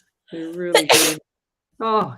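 A single sharp human sneeze bursts out loud and close between stretches of a person talking, part of a live radio show.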